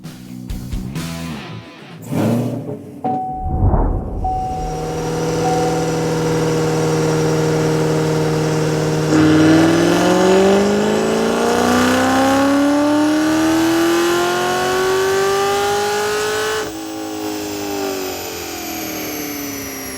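A 2017 Camaro SS engine with headers starts, idles, then revs steadily higher in a long sustained dyno pull with rising pitch, shifting gears before dropping back, loud and close.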